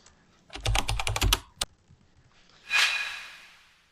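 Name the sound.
typing on a computer keyboard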